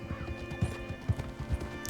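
A horse's hooves clip-clop at a slow walk through the dusty town of Rhodes in Red Dead Redemption 2, a few distinct thuds over quiet game ambience.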